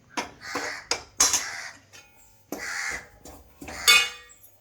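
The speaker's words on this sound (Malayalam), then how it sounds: "കാക്കന്ന് ഭയങ്കരമായിട്ട് ബഹളം വെക്കുന്നുണ്ട് ഇവിടെ വന്നിട്ട്." Several crows caw loudly in short harsh bursts close by, with brief gaps between calls and no talking.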